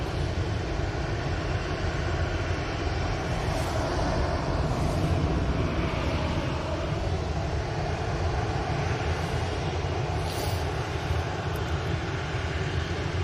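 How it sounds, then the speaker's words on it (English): A TUI Boeing 787 Dreamliner arrives at Manchester Airport, its engines a constant, broad, rumbling roar that holds steady with slight swells, with light wind buffeting and no speech. "TUI's going to be arriving. TUI Dreamliner."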